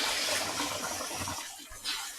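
Water pouring steadily into a Japanese bathtub, a soft, continuous rushing and splashing at low level, heard alone without speech.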